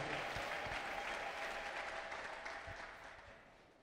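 A crowd claps steadily, dense and fairly distant, fading gradually over a few seconds; no distinct ululation stands out.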